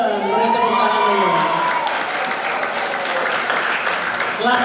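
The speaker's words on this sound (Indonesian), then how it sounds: "Beri tepuk tangan dulu." Crowd at a modern Islamic boarding school public lecture applauding the student organization, steady dense clapping throughout with a voice speaking over the start.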